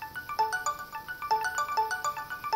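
Phone ringtone played wirelessly through a Bluetooth alarm clock speaker, a bright repeating melodic jingle of short tonal notes looping steadily at moderate volume with no talking.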